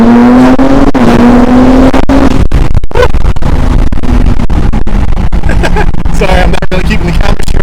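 Aftermarket-midpipe exhaust on a BMW G80 M3 revs loudly up close, a steady high drone dropping off after about two seconds into burbling, crackling pops that continue to the end.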